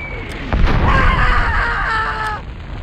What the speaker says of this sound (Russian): ну и обстрелял один из них из пушки.